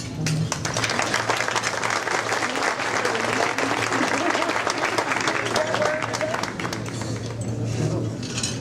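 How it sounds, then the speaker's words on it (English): Sustained applause from a large crowd at a Juneteenth program, dense steady clapping filling the whole stretch with a few faint voices mixed in. "Can y'all give him a round of applause one more time, please?"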